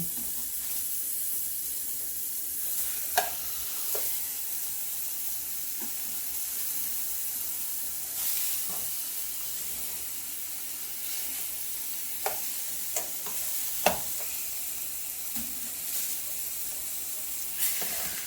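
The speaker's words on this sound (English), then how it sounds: "So I know that my grease is hot. So go ahead and put my pork chops in." Pork chops laid into hot grease and left to fry give a steady, close sizzling hiss, broken by a few sharp pops and spatters. No one speaks.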